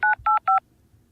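Telephone keypad dialing tones, three short even beeps in quick succession, clear and close with nothing else around them.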